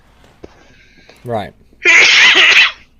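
A single loud, sharp sneeze bursts out near the microphone, preceded by a quick intake of breath and a brief spoken word.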